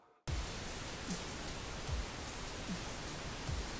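Steady pink noise switches on abruptly after a brief quiet start and holds as a dense, even hiss, with a faint low thump recurring underneath.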